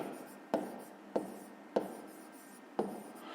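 A pen or chalk writes out a fifth-grade math problem in quiet, sharp taps and scratches, four distinct strokes spaced about half a second to a second apart, close by.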